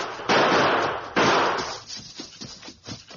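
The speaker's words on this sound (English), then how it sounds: "Come with me, Tonto, and keep firing." Gunfire effects in an old Western radio drama: two loud noisy blasts in quick succession, each fading out, followed by fainter scattered pops and shuffling sounds.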